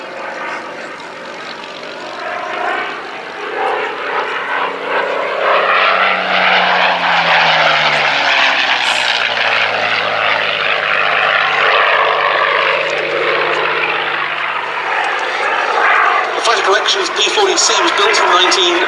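A 1941 Curtiss P-40C Tomahawk propeller fighter flies at an air show at Duxford, its loud engine drone swelling and shifting in pitch as it passes, continuous throughout with a voice commentating over it.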